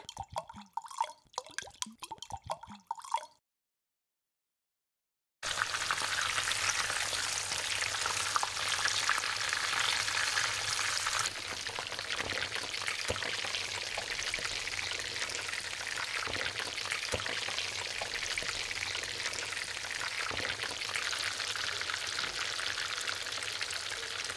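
Cooking oil fries in a mini kitchen while crispy seafood Cheetos donuts are being made: a steady, close, crackling sizzle runs on without a break after a short silence.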